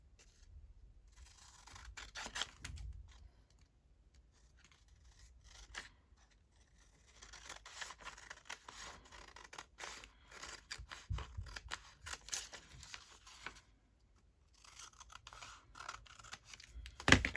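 Scissors snip and trim paper for a junk journal in short bursts of cutting, separated by quiet pauses, faint and close with light rustling of the paper.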